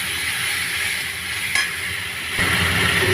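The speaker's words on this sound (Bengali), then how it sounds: "মশলাটা দিয়ে দেবো জিরে, আদা, লঙ্কা বাটা দিয়ে" A spice paste of ground cumin, ginger and chilli sizzles in hot oil for a fish curry, a loud continuous frying hiss that swells as the paste is stirred, with a brief clatter midway and no talking.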